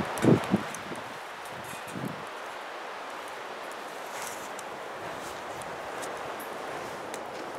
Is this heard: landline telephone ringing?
no